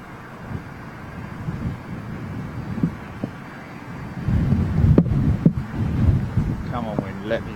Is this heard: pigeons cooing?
no